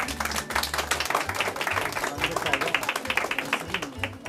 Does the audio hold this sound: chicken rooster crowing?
no